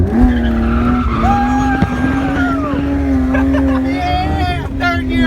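A BMW E36 drift car sliding in second gear, its engine droning loudly in a rising, wavering tone while the tires squeal throughout, with people talking over it close by.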